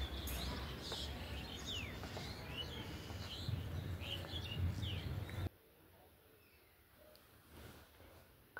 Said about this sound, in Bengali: কাক ডাকছে, পাখি ডাকছে কিচিরমিচির করে